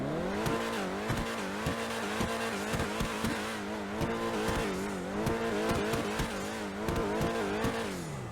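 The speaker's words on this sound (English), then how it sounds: "The pops and bangs are really loud on it" A Grotti Cheetah Classic sports car engine in GTA Online drones and shifts pitch continuously, with sharp exhaust pops and crackles scattered throughout, loud and close.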